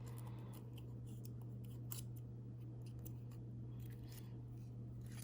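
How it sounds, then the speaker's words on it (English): Precision scissors snip paper flower petals in a quiet indoor setting, with a series of faint, crisp clicks over a steady low hum. "You're going to use your precision scissors again, just like we did."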